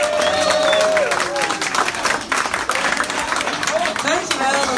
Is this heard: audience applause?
yes